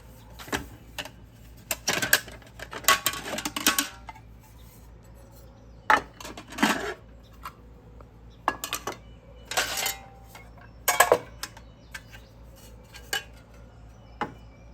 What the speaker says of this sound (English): Here's this old military mess kit that I got from Robert over at Bluegrass Bushcraft